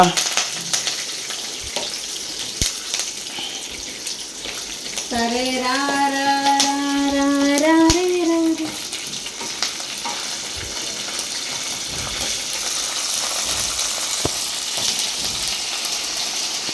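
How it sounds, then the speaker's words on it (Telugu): A food mixture is stirred and fried in a hot pan, giving a steady sizzle with scraping stirs throughout. A voice-like tonal sound rises briefly in the middle, and the frying stays loud and continuous. "ఇందులో వేసి ఇలా కలబెడతా ఉండండి"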